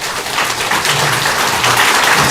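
A church congregation stands and applauds with steady, dense clapping throughout.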